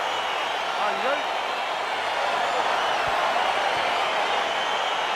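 An arena crowd at a UFC bout between Mohammed Usman and Mick Parkin as the fight begins, a steady, unbroken roar of many voices that holds at an even level throughout.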